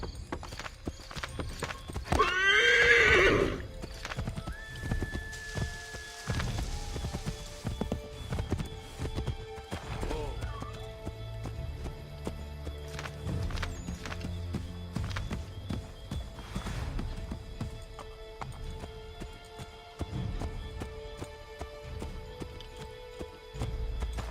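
A horse in the video game Assassin's Creed 3 clip-clops along at a steady pace for a long stretch, with a brief whinny near the start and game ambience underneath, moderately loud.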